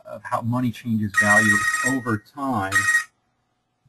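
A mobile phone rings loudly in a lecture hall, two bright bursts of ringtone sounding over a lecturer's ongoing speech before stopping.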